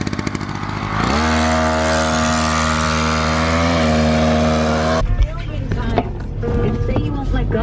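A motorcycle engine drones loud and close at a steady buzzing pitch that shifts slightly, then gives way abruptly to a rougher, busier mix of engine and surrounding noise with voices.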